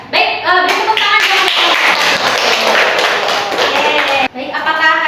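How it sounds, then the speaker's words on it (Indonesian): Schoolchildren clapping hands in a classroom during a micro-teaching lesson, a burst of quick, crisp claps that runs a few seconds, close and loud, with children's voices and speech around it. "beri tepuk tangan"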